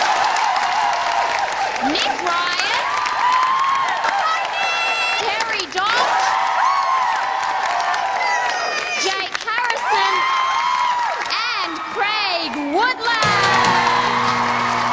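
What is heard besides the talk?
audience applause and cheering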